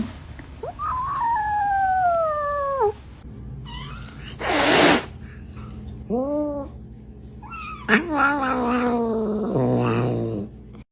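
A house cat lets out a series of long, drawn-out dramatic meows and wails, loud and close, several separate cries with gaps between them, some rising and falling, with a brief rustle in between.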